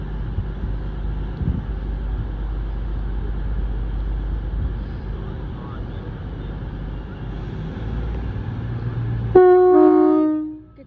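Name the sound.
passenger train at Torquay station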